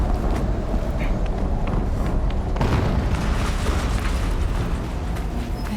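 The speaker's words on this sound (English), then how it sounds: "Another explosion." Explosions in the video game Horizon Zero Dawn at the Faro headquarters, a dense continuous rumble of booming blasts and mechanical clatter, loud and sustained, with a sharper burst midway through.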